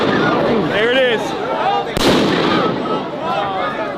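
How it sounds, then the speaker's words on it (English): A flashbang grenade goes off with a single sharp, loud blast midway through, while agitated voices shout and talk close by before and after the bang. "They're throwing flashbangs up"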